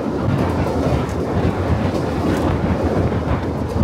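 A Vande Bharat Express running from Howrah to NJP pulls into Krishnanagar City Junction, giving a loud, steady rail rumble with faint clatter and wind buffeting the microphone throughout.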